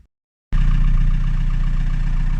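A VW T4 van engine, with a suspected failing alternator, catches after a moment of silence and settles into a loud, steady, close idle rumble.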